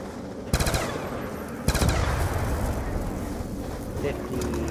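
Gunfire in Black Ops 2 Zombies: two loud bursts of rapid shots, each a clattering volley lasting a fraction of a second, over a constant rumble of game background noise.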